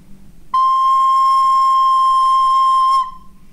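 A single sustained recorder note fingered with the thumb and second finger, clear and steady with a bright pure tone, held about two and a half seconds alone before stopping.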